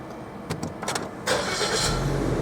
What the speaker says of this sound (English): first thing we'll do is we'll start the car